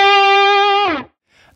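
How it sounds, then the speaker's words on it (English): A single hard-picked distorted electric guitar note, sustained loudly for nearly a second before bending down and cutting off, followed by a faint short trailing noise. "we can of course just dig in really hard with the pick like this"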